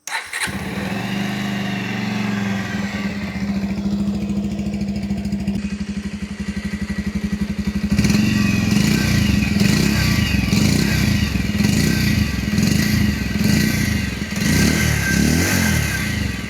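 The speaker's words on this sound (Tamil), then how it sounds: "இந்த வண்டியை ஸ்டார்ட் பண்ணி இதோட சவுண்டு வந்து எப்படி இருக்குது அப்படின்னு காமிக்கிறேன் பாருங்கள்" A 2026 Bajaj Pulsar 150 motorcycle starts with a sharp crank and settles into a close, steady idle, then the throttle opens and the engine roars louder through the second half.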